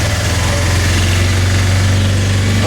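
Auto rickshaw engine running steadily on a small rural road in India, a loud, close, continuous low throbbing drone with a rattling vibration and no voices.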